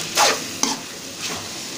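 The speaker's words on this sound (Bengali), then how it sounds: "আমি এখানে দেখে ভাজা ভাজা করে রাখবো" Cauliflower filling for Bangladeshi hotel-style singara fries in a pan: a few short scraping stirs and bursts of sizzle, close and fairly loud, with quieter frying hiss in between.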